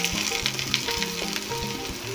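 Onion sizzling in a pan with beans, chopped carrot and green peas for a crispy spicy aloo sandwich made with leftover rice: a loud, steady frying crackle with stirring, close up and with no voices.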